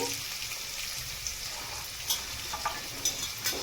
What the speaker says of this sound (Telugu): బాయిల్ చేసిన చెనా, కొత్తిమీర, ఇవన్నీ ఒక్కసారి మనము బాగా కలిపేద్దాము.